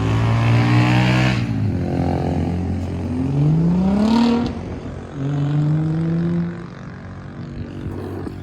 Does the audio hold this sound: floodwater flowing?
no